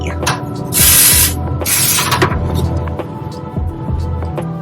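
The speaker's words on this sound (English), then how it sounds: "Use a tacky spray." Two short hissing blasts of a tacky aerosol hair spray up close, followed by light rustling and handling noises.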